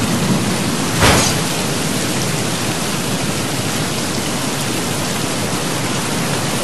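Steady, loud rain hisses without a break, with a brief sharper rush near the start, in the video game Battlefield Hardline.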